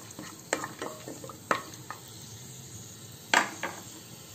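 Whole spices frying in oil in a pressure cooker give a light sizzle, broken by several close metallic clinks and scrapes of a spoon against the pot.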